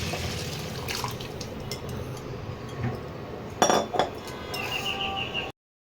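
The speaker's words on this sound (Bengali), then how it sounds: "এবারে আমি যে ঝোলটা আমি তৈরি করে রেখেছিলাম, ঝিঙে আলু আর পটল দিয়ে সেদ্ধ করে রেখেছিলাম, এটা এবারে এর মধ্যে দিয়ে দেবো" Boiled broth of ridge gourd, potato and pointed gourd poured into a pan, giving soft liquid splashing with a few clinks of metal and glass cookware, close by and fairly quiet.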